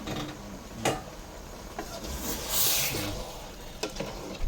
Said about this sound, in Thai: คั่วเข้าไปอีก